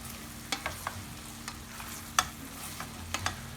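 Onions and pancetta fry in a pan with a soft continuous sizzle, punctuated by several sharp scraping stirs and clicks of a utensil, fairly quiet and close.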